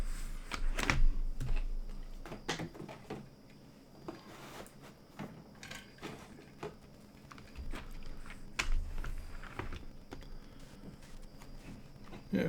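Irregular clicking taps of typing on a computer keyboard, fairly quiet and close, come in scattered bursts with short pauses and a few heavier knocks.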